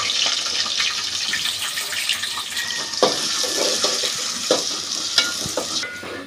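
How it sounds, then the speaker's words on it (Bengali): Onion, garlic paste, ginger paste and bay leaf fry together in hot oil with a continuous sizzle, while a spoon stirs and knocks against the pan several times. "একসাথে ভেজে নেব এগুলো"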